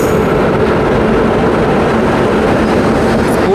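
The Howrah–Mumbai Mail, hauled by a WAP7 locomotive, passes very close with a loud, continuous broadband rumble and rattle that stays steady throughout.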